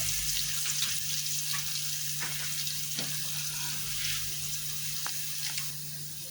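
Onion, garlic and red pepper fry in a pan with a steady, moderate sizzle, a low hum underneath and occasional light clicks from stirring. The sizzle fades a little near the end.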